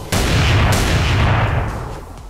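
A single loud, close gunshot fired point-blank in GTA San Andreas booms out and then tails off over about two seconds, with no talking.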